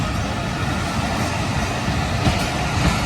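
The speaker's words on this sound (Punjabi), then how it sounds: "ਲਾਮਾ ਇਕਬਾਲ ਐਕਸਪ੍ਰੈਸ ਬੜਾ ਚੱਲਦਾ।" Allama Iqbal Express passenger train running between Okara and Lahore, a steady loud rumble of rolling carriages with faint rhythmic wheel clatter throughout, no voices.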